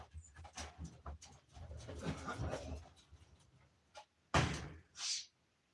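Puppies on a farm pant and snuffle close by before being let outside, followed by a door banging and a brief whine, soft overall with quiet gaps.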